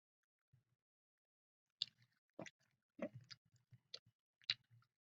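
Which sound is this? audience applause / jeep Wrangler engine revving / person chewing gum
person chewing gum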